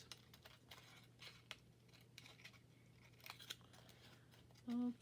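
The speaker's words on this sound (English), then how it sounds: "Maybe this aluminum foil will sharpen my scissors a little bit while I'm at it." Scissors snip and crinkle through thin aluminum foil in quick, faint crisp cuts, close by in a quiet room, with a brief voice at the end.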